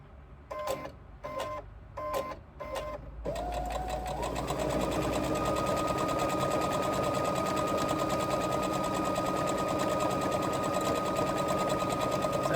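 A sewing machine chain stitching topstitching on a crossbody bag, a few short bursts of stitching at first, then a long, steady, fast mechanical whir that continues unbroken, close and clear.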